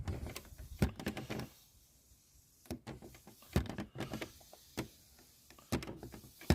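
A hand pump pushes gearbox oil into a Fiat Ducato 2.8, making repeated clunking, squeaking mechanical strokes in bursts, with short quiet gaps between groups of strokes.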